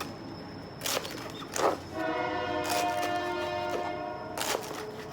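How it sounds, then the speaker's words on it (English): A train passes at a distance, its horn blaring in several long sustained blasts over a steady rumbling rail roar, with a few sharp clatters on top. "There goes that train."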